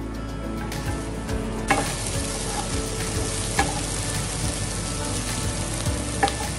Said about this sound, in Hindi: 2 से 3 टेबलस्पून मस्टर्ड ऑयल डाल के रफली चॉप्ड अनियन जो है उसको डीप फ्राई कर लेना है।